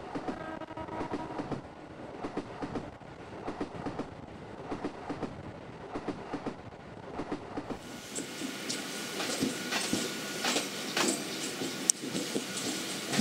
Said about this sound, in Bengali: ট্রেনটা ডান দিকের লাইনটা ধরে নিল